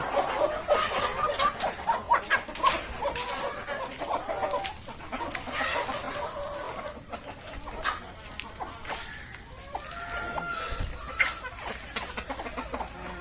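Kappiri chickens, a Kerala backyard breed fed on wheat, cluck and call repeatedly at close to mid range, with a steady outdoor murmur behind and a faint dog-like sound now and then.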